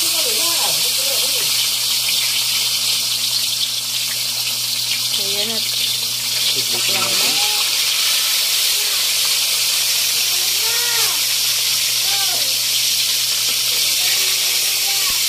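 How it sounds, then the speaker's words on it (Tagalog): Onion, garlic and tomato sizzle in hot oil in a pan, a loud steady hiss that runs throughout, with people talking over it. "Siya po magsisimula ng mag-prito."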